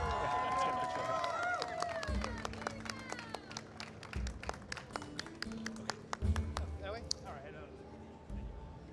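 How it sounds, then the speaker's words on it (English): Audience applause at a Monster Hunter Wilds USA Championship 2025 event: steady, dense clapping from a crowd that runs throughout, with a voice over the sound system and music tones near the start. "let's give them one more round of applause, everybody"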